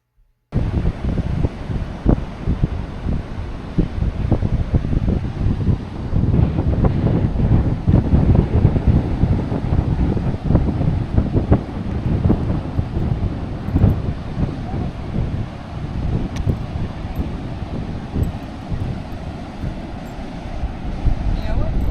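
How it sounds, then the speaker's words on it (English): Steady wind roaring across an open Atlantic Ocean beach in Florida, with surf washing continuously underneath, loud and buffeting the microphone throughout. "then you are out on the beach at the Atlantic Ocean"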